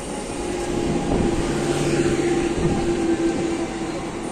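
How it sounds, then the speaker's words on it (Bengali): A local train pulls into a busy suburban station in Bengal, a loud, close, steady rumble of wheels and carriages with a sustained humming drone running throughout, no voices over it. "পিছন দিক থেকে ট্রেন এসে গেছে"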